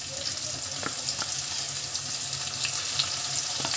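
Ground spice paste hitting a hot pan while cooking besan sabji: a close, steady hiss of sizzling oil with faint pops and crackles scattered through it. Nobody speaks.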